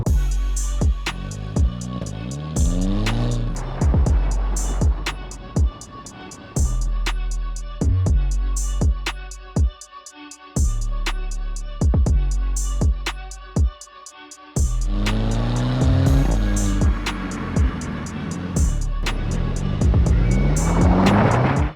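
Crash-damaged VW Scirocco with a DSG gearbox accelerates hard, engine revs climbing through repeated quick upshifts, each shift marked by a sharp crack or burble, loud and close from inside the car, with no talking.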